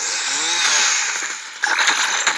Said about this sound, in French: Je me suis fait déglinguer par un mec avec une tronçonneuse dans les mains.